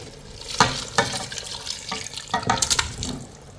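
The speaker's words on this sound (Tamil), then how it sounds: "அப்படி சூடாக இருக்கிற தண்ணியோட அதாவது இந்த ஸ்டாக்கோட இதில் ஊற்றுறோம்" Hot stock with sweet corn is poured into a cooking pot, giving a splashing, gurgling stream in several uneven surges, close and fairly loud.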